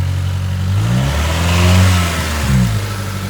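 A car with an aftermarket exhaust, up for auction, is revved from a low idle: a deep, loud engine drone swells into a rising rev, peaks and falls back toward idle, with no talk.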